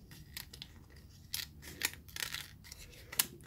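Scissors snip several times in quick, uneven bursts near at hand, crisp and fairly quiet with no speech, trimming a drip edge on an acrylic paint pour.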